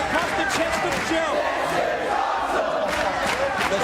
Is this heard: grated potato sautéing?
no